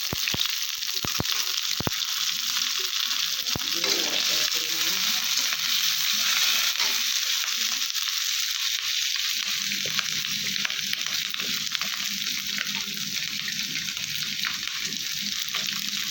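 Fish roe fries in a pan, giving a steady, continuous sizzle that holds at an even level throughout, with a few faint clicks near the start.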